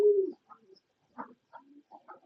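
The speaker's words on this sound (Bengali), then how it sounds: "তারপরে রয়েছে এক জোড়া চিলা কবুতর, খুবই সুন্দর মাশাআল্লাহ।" A pair of Chila pigeons, a fancy breed, coo softly nearby: one drawn-out low coo followed by a few short, broken murmurs in a quiet setting.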